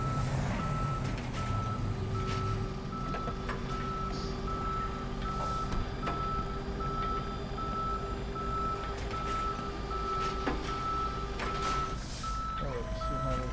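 A tow truck's reversing alarm beeps steadily in a repeating rhythm amid busy traffic and engine rumble on a patrol, loud and close, with faint talk beneath.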